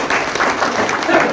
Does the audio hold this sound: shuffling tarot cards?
no